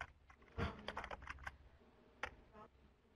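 Clicky keystrokes on a computer keyboard as a search term is typed into a PDF, a short burst of close, irregular taps followed by a couple of isolated presses.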